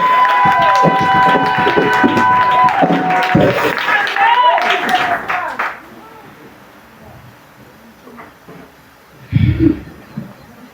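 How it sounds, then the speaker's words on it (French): A church congregation cheers and claps in acclamation of Jesus, a dense crowd of voices and applause with singing tones that fades after about six seconds, then a brief burst of clapping near the end. "Acclamons Jésus."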